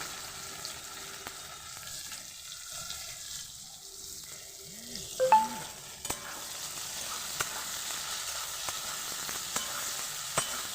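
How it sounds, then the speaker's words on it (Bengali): Plenty of chopped onions frying in hot oil for a pangas fish dish, a steady soft sizzle with scattered stirring clicks and a brief clatter midway. "এবার লাল করে পেঁয়াজটাকে আমি ভালোভাবে ভেজে নেব"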